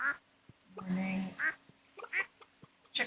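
Farm ducks in Stardew Valley let out several short, nasal quacks in an uneven sequence, each call distinct and close, with brief pauses between them.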